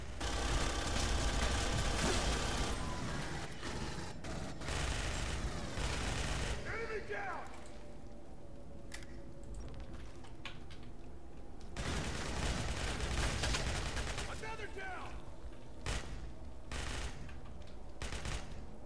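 Rapid rifle gunfire in the Aliens: Colonial Marines video game, dense loud bursts of shots at the start, then a lull and more volleys later, with other game sounds around.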